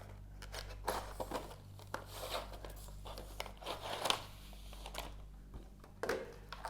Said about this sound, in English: Let me unwrap it and get it out of all of this plastic.